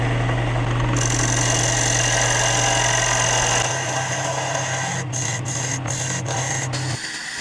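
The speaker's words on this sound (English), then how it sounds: "I'm just going to go over to the belt sander and sand off this little nub" A belt sander runs steadily at close range, grinding a small nub off a piece of turned scrap wood, a loud continuous whirring drone with brief catches and dips near the end.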